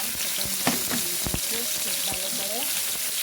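Spices with red chili powder fry in oil in a frying pan, giving a steady, close crackling sizzle with a few sharp utensil knocks and stirring scrapes over about three seconds.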